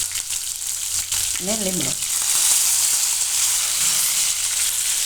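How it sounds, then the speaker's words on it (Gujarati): Cumin seeds and chillies sizzle steadily in hot oil for a Gujarati beet sabudana khichdi, a loud, continuous frying hiss throughout, with a brief voice speaking over it. "તો તેલ આપણું ગરમ થઈ ગયું છે. એમાં આપણે પહેલાં જીરું નાખીશું અને મરચાં,"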